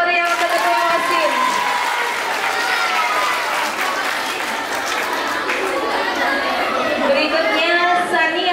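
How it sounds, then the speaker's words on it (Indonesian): Loud, lively applause for a student council chair at a school competition final, dense clapping mixed with crowd chatter and young voices talking throughout. "Tepuk tangan yang meriah untuk Ketua OSIS."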